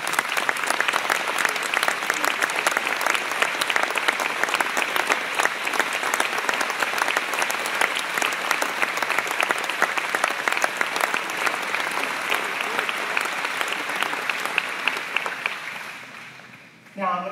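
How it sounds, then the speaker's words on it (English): Sustained audience applause at a philanthropy celebration honoring ten organizations, dense and steady clapping filling the room for about sixteen seconds before fading abruptly. "I'd love us to give you a round of applause for making all of this work happen"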